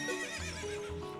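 Epona, the horse in Zelda: Ocarina of Time, gives a short, bright whinny in game audio, quick and fairly soft, with faint hoof clatter beneath.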